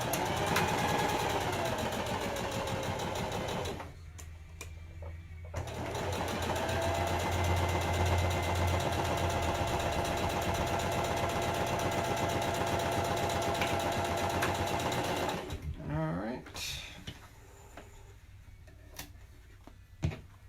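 Sewing machine stitching a curved seam on a fabric face mask at a 3/8 inch seam allowance, a steady loud mechanical whir running continuously, pausing briefly twice, then stopping near the end.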